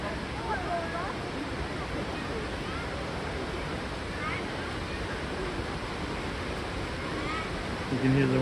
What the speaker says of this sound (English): You can hear the waterfalls.